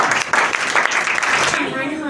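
Audience applause at a children's Christmas program, a short dense patch of many hands clapping that fades out, with voices beginning as it dies away.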